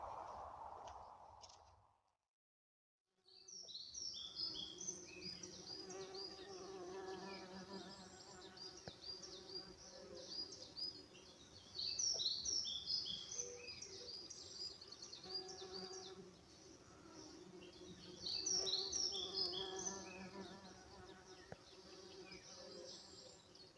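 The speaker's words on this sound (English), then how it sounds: "There's a Buddleia in the forest tucked away, which is attracting quite some range of insects." Insects buzz steadily around a flowering Buddleia bush tucked away in a forest, a dense hum of bees, wasps and flies rising and falling over about twenty seconds, with birdsong faintly in the background.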